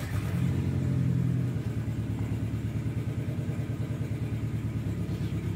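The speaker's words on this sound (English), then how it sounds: "the car just shut off" A car engine with a wideband air-fuel gauge fitted, running lean, idles with a loud, steady rumble before a brief rise, then settles into an uneven, pulsing chug that sounds close. No one speaks.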